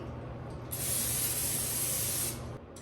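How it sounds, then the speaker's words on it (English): Cooking spray is sprayed onto a parchment-lined baking sheet in one steady hissing burst of about a second and a half, close and clear over quiet background noise. "then we're going to go ahead and spray that as well"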